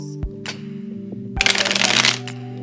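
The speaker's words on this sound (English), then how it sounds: "I'm only going to shuffle this one time." A tarot deck is shuffled once: a single dense, crisp riffle of cards lasting under a second, close and clear against a quiet room with a faint steady hum.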